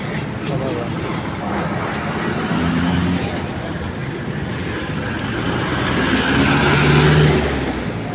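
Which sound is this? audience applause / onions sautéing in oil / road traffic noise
road traffic noise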